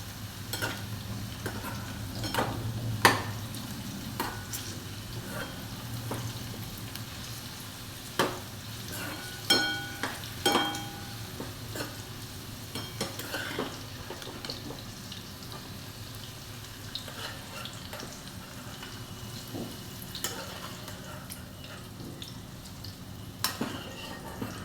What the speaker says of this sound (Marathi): तिसरी बॅच पण झालेली आहे तळून.